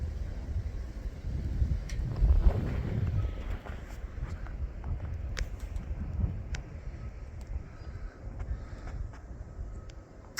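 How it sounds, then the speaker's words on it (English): Strong wind roars steadily and close during a lake-effect snowstorm in Valparaiso, Indiana, gusting hardest early on and buffeting the microphone with broad, rough noise throughout, with no talking. "It's really windy."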